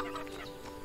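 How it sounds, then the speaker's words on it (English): A chicken in Everdream Valley, a video game, gives a short burst of clucking, close and moderately loud, in a brief moment without speech. "I think I heard another chicken."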